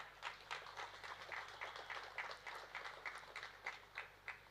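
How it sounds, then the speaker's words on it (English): A handful of people clap sparsely at a property launch event, the claps faint and distant, coming in an uneven rhythm with no voices over them. "The only clap I'm hearing is from these people."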